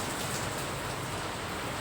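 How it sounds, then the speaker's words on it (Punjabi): Steady hiss of heavy rain falling, a continuous even wash of noise without breaks, moderately quiet. "ਕਿੰਨਾ ਮੀਂਹ ਪੈ ਰਿਹਾ"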